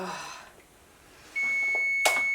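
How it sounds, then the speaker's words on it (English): A kitchen timer set for cooking peppers sounds a steady, fairly loud electronic tone that starts partway through and holds unbroken to the end, following a quieter stretch of background noise. "there's the timer for the peppers"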